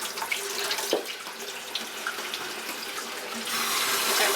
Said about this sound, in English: run some water in his cavity